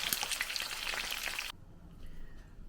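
Mackerel frying in a pan, a loud crackling sizzle for about a second and a half that cuts off abruptly, leaving a faint, quiet background.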